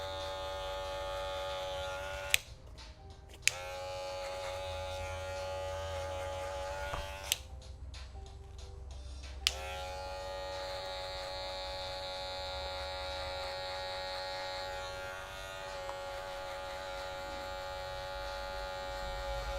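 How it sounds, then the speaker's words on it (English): An electric hair clipper set to zero trims hair close, giving a steady, loud mechanical buzz with two brief pauses where it cuts out, and no voices over it. "I'm going to take about an inch below with a 0 on the clipper"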